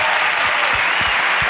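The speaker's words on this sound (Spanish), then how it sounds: "Aplauso," A studio audience at a comedy talk show claps loudly and continuously, a dense wash of hand claps filling the whole moment with no pauses.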